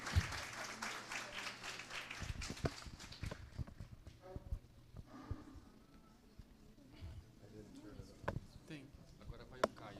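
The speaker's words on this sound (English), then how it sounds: "Round of applause for Professor McGill." Audience applause at a conference, a burst of clapping that swells near the start and then thins into scattered claps, with some voices murmuring underneath.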